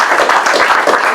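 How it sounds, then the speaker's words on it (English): Loud, close audience clapping at an exhibition gathering, a brief burst of many hands striking together continuously. "You all deserve a big clap."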